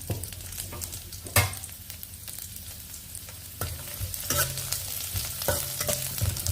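Chopped garlic, about five cloves, frying in hot oil in a pan for a spicy Eid vermicelli dish: a steady close sizzle with sharp bursts of spatter and scraping stirs scattered throughout, no talking.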